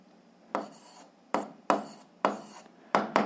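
A pen writes numbers on paper while a sixth-grade math exercise is worked out. Five or six short scratchy strokes, close and fairly quiet, come with brief pauses between them.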